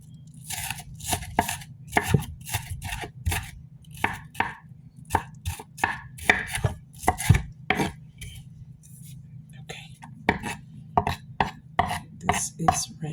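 Onions are chopped on a cutting board with a knife, sharp crisp knocks coming in quick uneven bursts close by over a low steady hum, with short pauses between runs of cuts.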